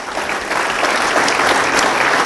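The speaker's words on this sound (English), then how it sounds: "that's clap-worthy there" Brief, loud burst of crowd applause at an event on the South Carolina economy, a thick unbroken wash of clapping lasting a couple of seconds.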